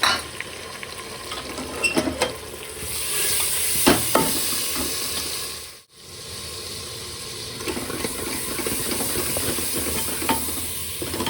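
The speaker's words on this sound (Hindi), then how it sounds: "देखो प्याज भुन चुकी है हल्की सी, अब डाल दी मैंने टमाटर" Tomatoes dropped into lightly fried onions in a pan for a heavy spiced curry, a loud, steady, broad sizzle with a few stirring knocks and a brief dip midway, no talk.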